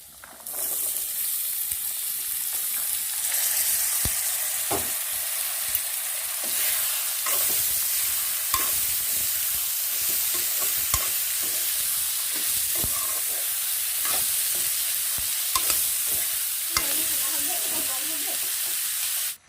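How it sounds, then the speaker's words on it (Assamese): Potatoes and greens fry in a pan over a high flame, giving a loud, steady sizzling hiss throughout with repeated sharp clicks and scrapes from stirring. "মই হাই ফ্লেমত ভাজি আছোঁ"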